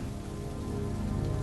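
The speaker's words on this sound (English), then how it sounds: "rain begins to fall" Steady rain falling on a surface, a dense even hiss with no voices, used as ambient backdrop in a fantasy role-play story.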